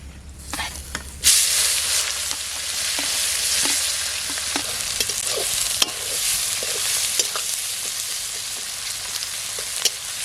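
Chopped onion hitting hot oil with spices in a village-style kitchen as fish curry is started: a loud sizzle bursts in after a quiet second and keeps frying steadily, with scattered stirring clicks throughout.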